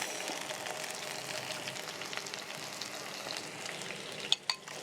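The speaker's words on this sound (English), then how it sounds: "So now I'm going to place in my tomatoes, onions," Tomatoes and onions fry in a pan for chapati wraps, giving a steady, close, crackling sizzle throughout, with two sharp clicks near the end.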